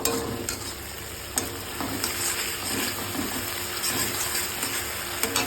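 Food frying on high flame with a splash of soy sauce gives a continuous loud sizzle close by, broken by occasional scraping stir strokes.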